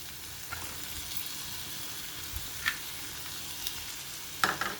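Soaked chana dal frying with softened onions in a pan, a steady close sizzle with occasional clinks and scraping taps of a spoon, no talking.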